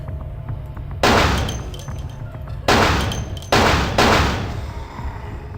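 Gunfire in Vampire: The Masquerade - Bloodlines comes as four loud, close shots with booming decays, spaced unevenly with two landing close together near the end, over a low steady game ambience.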